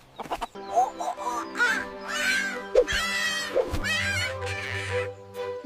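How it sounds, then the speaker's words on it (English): A cartoon farm cat gives a series of clear, close meows, several drawn-out calls in quick succession. "Cat says, Meow meow."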